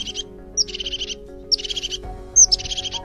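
A crested tit sings in Europe, repeated short buzzy trilled phrases each led by a thin high note, close and clear, with a steady low hum beneath.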